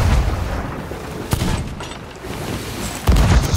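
Gunfire and booming blasts in the video game Sea of Thieves, loud and close, with scattered sharp shots over a rumbling background and a heavier thump near the end.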